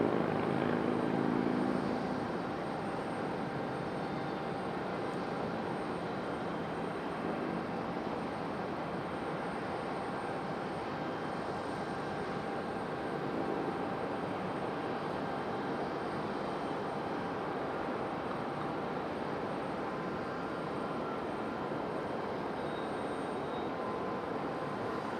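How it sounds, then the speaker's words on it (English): An American 737 airliner at Raleigh Durham International Airport gives a steady, broad engine roar and whine that holds evenly throughout, heard from a distance with no talk. "American 737 about to line up and get ready to go."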